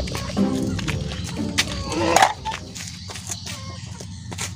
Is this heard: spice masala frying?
no